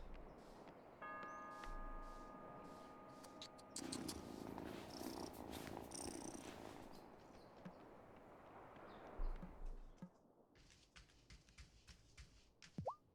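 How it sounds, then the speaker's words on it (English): Soft, continuous purring from a cat in the life-simulation video game Wylde Flowers, quiet and close under game music and chimes, with light footstep-like clicks near the end. "Cat."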